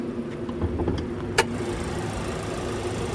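A 2024 GMC Terrain Denali's 1.5-liter turbocharged four-cylinder engine idles steadily at a low, even rumble, with one brief sharp click partway through.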